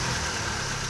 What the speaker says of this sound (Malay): Kita biar je enjin running